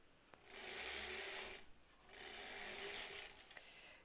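Sewing machine stitching along the edge of a fabric face mask in two quiet runs, a fast whirring mechanical buzz with a short pause between them, close and alone.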